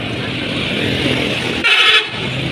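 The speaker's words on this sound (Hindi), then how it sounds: "ये आप देख रहे हैं रश, ये गाड़ियाँ जा रही हैं सखर और कराची के लिए।" Busy road traffic of cars and vans passes a crowded city gate in Hyderabad, Sindh, with a steady rumble of engines and a short horn toot near the end.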